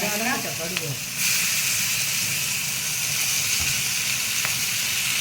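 Capsicum sautéing in a pan with turmeric and asafoetida, a steady close sizzle that jumps louder after a brief quieter start and holds evenly, with a short spoken voice at the very beginning.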